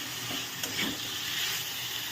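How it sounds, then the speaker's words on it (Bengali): A pan of paneer curry with turmeric, salt and sugar sizzles steadily while being stirred, a dense close frying hiss with soft spoon movement. "হলুদ, লবণ, মিষ্টি দিয়ে এবার নেড়ে নেব ভালো করে"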